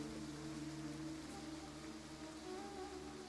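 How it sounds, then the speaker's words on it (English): Steady rain falls in a Total War Pharaoh battle, a constant even hiss with a low droning hum underneath, continuous and moderately loud throughout. "Wait, it didn't stop raining though."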